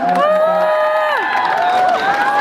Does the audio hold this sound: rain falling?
no